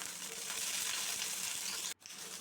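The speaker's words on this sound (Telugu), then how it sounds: "ఇలా వేసుకున్న వీటిని ఫ్రై అయ్యే వరకు, వైట్ లేయర్ వచ్చే వరకు అలా ఫ్రై అవనివ్వాలి." Green chillies fry in hot oil in a pan with a steady, close, dense sizzle that cuts out briefly near the end.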